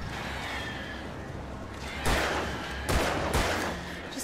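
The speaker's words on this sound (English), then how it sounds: "Just taking pot shots at them." Gunfire in the video game Alan Wake Remastered, a few sharp bursty shots over a low game ambience, moderately quiet in the mix.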